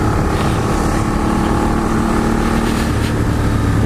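A Benelli 752S motorcycle engine drones steadily while riding on a road, loud and close, mixed with heavy wind rush over the microphone.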